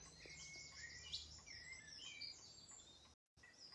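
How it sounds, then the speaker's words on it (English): Recorded bird song played back quietly: repeated high chirps and short trills over soft background hiss, cutting out briefly near the end. "Let's get a bit of bird song"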